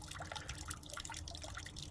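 Water flowing steadily through a pool heater bypass line just ahead of the salt cell, a continuous close trickling and gurgling wash with small drips, heard alone.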